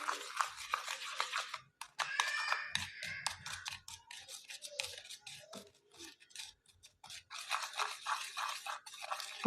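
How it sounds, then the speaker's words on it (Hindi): Brush or spatula stirring 20 volume hair developer in a small bowl, quick scratchy scraping strokes in irregular bursts with brief gaps, close up and with no speech. "इसको अब हमने बहुत अच्छी तरह से मिक्स कर लेना है"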